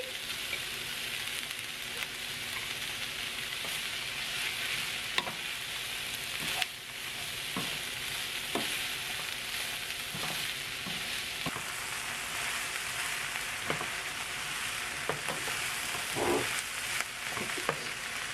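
Mixed vegetables with broccoli frying in sesame seed oil in a pan for chicken fried rice, a steady close sizzle broken by scattered clicks and scrapes of stirring throughout.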